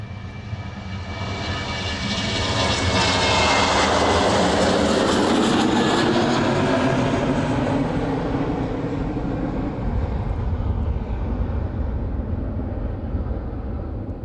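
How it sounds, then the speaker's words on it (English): A Boeing 737-800 from 2006 departs runway 27 at East Midlands Airport in the evening, its loud jet roar building within seconds, peaking close by with a sweeping rush, then easing to a sustained rumble as it climbs away. "Very smooth departure from runway 27 this evening."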